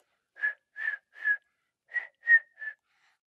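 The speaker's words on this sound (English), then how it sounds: "I learned how to whistle." A person whistles a short tune of seven clear, separate notes with brief pauses, close and alone with no talk.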